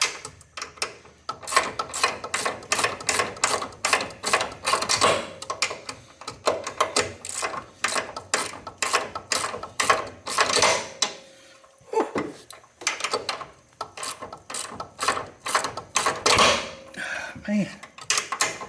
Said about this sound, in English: it's a little easier to tighten it up when you can get a socket on it and just put a wrench on the top to hold it in place